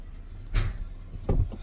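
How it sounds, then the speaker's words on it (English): A car door slams shut twice during a school drop-off, two dull, heavy thuds about a second apart over a steady low idling rumble, with no talking. "Come here and close my door."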